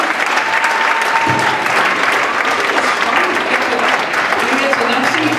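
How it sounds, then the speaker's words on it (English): Loud, steady applause from a small audience at an intimate cabaret show fills the room without pause. "let's hear it from Alex and family from Cameron, Missouri."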